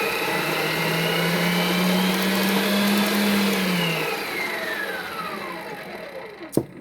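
An electric mixer beats cookie dough with sugar for white chocolate chip cranberry cookies, giving a steady, close whirring motor drone that holds for a few seconds, then winds down before a sharp click at the end.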